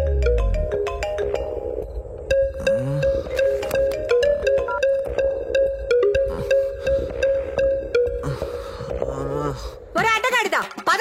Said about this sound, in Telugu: నాకు కాల్ వచ్చింది సార్.